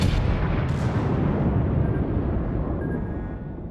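A torpedo hits a battleship in World of Warships and explodes in a loud, heavy blast that rumbles on and fades slowly over a few seconds, with no speech.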